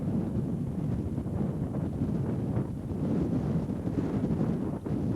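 Wind gusts buffet the microphone on a river during a 1995 canoe trip on the Quoich, a continuous low rumbling roar with no voices.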